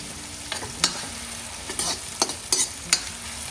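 Cumin seeds frying in oil in a pan for a Punjabi potato and spinach bhurji, giving a steady sizzle with sharp scattered crackles and pops from a stirring utensil, close and fairly quiet, with no talk.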